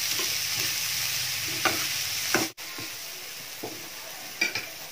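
Onions sautéing in a pan for Goan fish curry, a steady close sizzle and frying hiss with occasional stirring scrapes and a few soft clicks, no talk.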